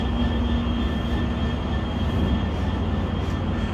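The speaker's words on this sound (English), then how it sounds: "As mentioned, there's that Sounder train." A Sounder commuter train hauled by an F-59 locomotive rumbles steadily with a low engine drone and faint tonal whine, a continuous, fairly close noise with no voices over it.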